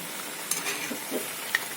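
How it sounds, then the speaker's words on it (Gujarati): Onion tikki frying in fully heated oil, a soft steady sizzle with a couple of brief crackles, fairly quiet and without talk. "તો આપણી કાંદા ટીકી તળાઈ રહી છે"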